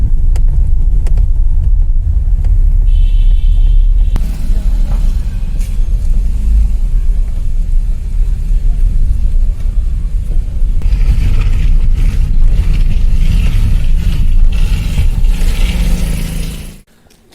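A car drives steadily into Bissau, a small town in Rajasthan, its engine rumbling loud and close with road noise throughout, before the sound cuts off abruptly as it comes to a stop to park.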